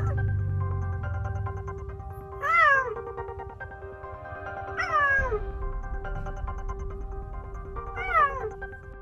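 A cheetah gives three short, rising-and-falling cat-like meows spaced a few seconds apart, heard close over a steady background hum with no talking.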